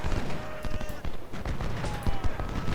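Musket volleys crackle in the Ultimate General: Civil War video game, a battle din of scattered shots and rolling fire at moderate distance, continuing steadily with no clear pauses.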